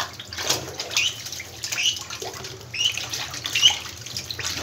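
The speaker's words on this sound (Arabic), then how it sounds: "شايفين البط مبسوط ازاي؟ هو كل فترة بيحب كده يستحمى" Ducks bathing in a shallow water basin at home, irregular splashing and sloshing bursts that come and go, fairly close, with no talk.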